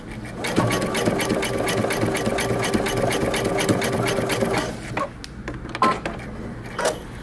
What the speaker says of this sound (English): I use a very narrow zigzag stitch.